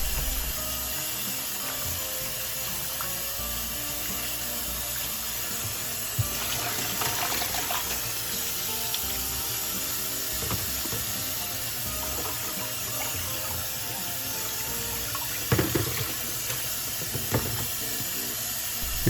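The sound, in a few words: washing chicken gizzards under running water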